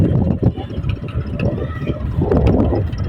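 A motorcycle engine runs close by during a ride with a sack of avocados, a rough, steady rumble buffeted by heavy wind noise against the microphone.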